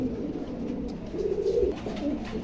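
Saki teddy pigeons, a pair from an imported Saudi bloodline, coo in low, steady, throaty rolls at close range, with no talking.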